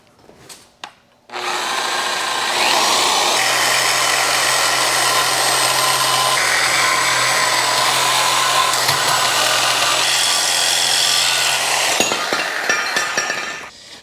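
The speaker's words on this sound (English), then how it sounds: "you can use a nice sawzall and get good access to remove that" A reciprocating saw cuts through car suspension parts during a coilover install, starting after a couple of knocks and running as a loud, close, steady buzzing whine for about ten seconds before cutting off, followed by clanking.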